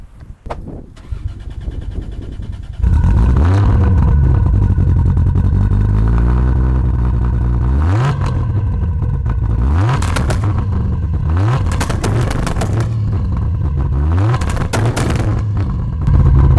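A modified 2001 Toyota Chaser sedan engine with anti-lag cranks and fires up, then revs loudly several times with rising and falling pitch and popping bursts, close by.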